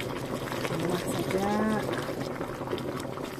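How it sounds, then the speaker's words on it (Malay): Water pours into bamboo tubes of lemang lined with banana leaf, a gurgling, bubbling fill heard close under a voice. "Tambah saja air sini."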